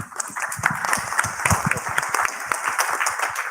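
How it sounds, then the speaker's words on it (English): Steady applause from an audience, many hands clapping in a dense, even patter at moderate volume. "Applause for the panel"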